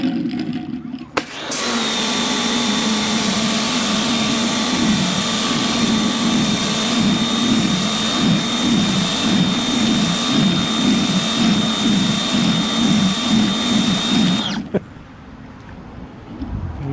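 A pressure washer with a power nozzle cleaning a driveway, a loud, steady, close roar with a high whine that starts abruptly, holds for about thirteen seconds and cuts off sharply.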